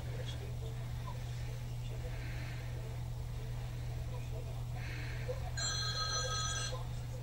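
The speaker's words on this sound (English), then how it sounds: "The phone is ringing." A telephone rings with a short electronic trill late in the stretch, heard over a steady low hum in a home.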